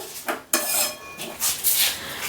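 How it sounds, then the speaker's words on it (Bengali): Boiled taro and elephant foot yam being sautéed in a pan, with metal utensil scrapes and clatters against the pan in a few short bursts, close by, with no talking. "কচু ওল দিয়ে দিচ্ছি বেশ সুন্দরভাবে এটা কষিয়ে নিচ্ছি একটু"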